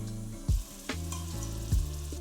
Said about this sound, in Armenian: մի փոքր էլ ավելացնում եմ ձիթապտղի յուղ և սկսում կարմրացնել երկրորդ հատվածը